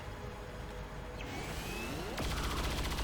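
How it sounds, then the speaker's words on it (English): Soldiers open fire in the XCOM 2 War of the Chosen tactical game, a few sharp weapon shots and a rising whoosh heard faintly over a low game backdrop, ending in a louder burst. "Jordan, open fire."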